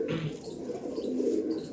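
Aggressive Andhra pigeons coo continuously, a dense low throaty murmur from several birds nearby, with faint higher chirps over it.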